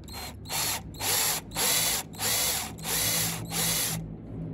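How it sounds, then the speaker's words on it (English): Power drill used as a carving tool on an electric guitar body, whirring in six short bursts of roughly equal length with brief pauses between, close and fairly loud, ending in quiet. "I'm using this drill as kind of a carving tool at this moment, not as a drill actually."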